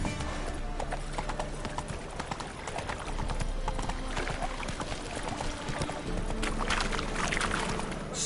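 Roach the horse galloping in Witcher 3, a loud, dense, continuous drumming of hooves with rushing movement noise and faint talk over it.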